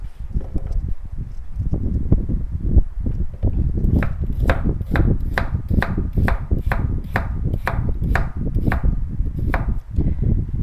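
Knife chopping vegetables such as carrot on a cutting board for a mushroom stir-fry, first a busy jumble of cuts, then a steady run of about a dozen crisp, evenly spaced chops, close and loud, with no talk.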